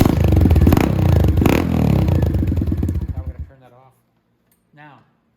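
A Venom dirt bike is kicked hard to start, its engine clattering loudly up close for a few seconds before cutting out, followed by near silence and a short voice.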